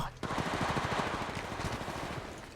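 Rapid automatic gunfire from the mobile shooter Apex Legends Mobile, a dense burst of evenly spaced shots that starts abruptly and continues steadily for a couple of seconds, moderately loud in the mix.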